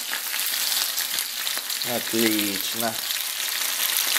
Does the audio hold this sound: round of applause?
no